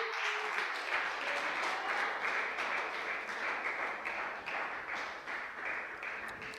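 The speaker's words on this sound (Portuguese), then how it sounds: "Você pode aplaudir o Senhor nesta noite?" A church congregation applauding during an evening service, a steady wash of many hands clapping that holds throughout and fades slightly near the end, fairly distant and soft.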